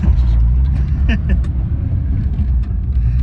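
A 1992 Jeep Cherokee XJ with a newly fitted Dana 44 rear axle drives along, a steady low engine and road rumble heard from inside the vehicle while people talk.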